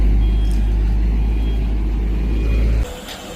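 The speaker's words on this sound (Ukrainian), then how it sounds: "що машина заїжджає." A truck delivering fill material for a yard pulls in with a loud, close, heavy low engine rumble that holds steady, then drops off sharply near the end.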